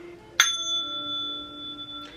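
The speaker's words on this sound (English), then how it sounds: "Gotta ring the heart chakra bell one more time, you know." A heart chakra bell is struck once, giving a sharp bright strike and a clear ringing tone that hangs and slowly fades, with a faint second touch near the end.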